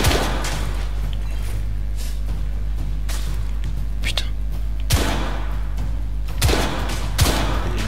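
Burst fire from a weapon in the game The Order, with a few sharp loud bursts standing out over a low rumbling backdrop while someone talks in between.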